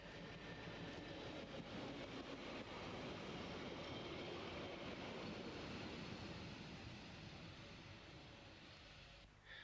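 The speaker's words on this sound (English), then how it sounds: "the train for Brig arrives just as the Andermatt train is ready for departure" A Glacier Express train rolls into Fiesch station in the Swiss Alps, a sustained low rumble of wheels and carriages with a broad hiss, steady and fairly loud throughout before easing slightly at the end.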